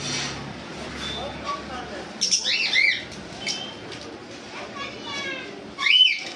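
Caged adult white lovebirds, about two and a half years old, give a few sharp chirps and squawks in short bursts over ongoing background voices.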